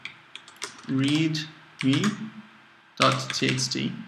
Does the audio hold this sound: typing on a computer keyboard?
yes